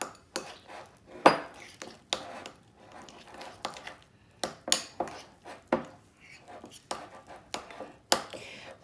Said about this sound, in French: Donc je mélange mon huile de noix de coco et mon beurre